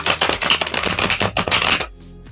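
Tarot cards are shuffled rapidly in a series of crisp riffling bursts, close and fairly loud, before the sound stops.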